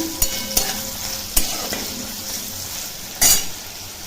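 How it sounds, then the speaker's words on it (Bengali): Cumin, chilli and onion sizzle steadily in a hot pan while a utensil stirs, with several sharp metallic scrapes and clinks against the pan. "জিরে লঙ্কা আর পেঁয়াজ ফোড়ন দিয়ে দিলাম তো ভেজে নিচ্ছি"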